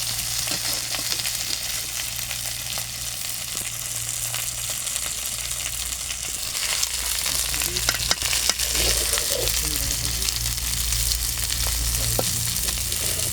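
Fish frying lightly in a pan with chillies makes a steady, dense sizzle and crackle nearby, with occasional stirring clatter and spatters that grow busier toward the end.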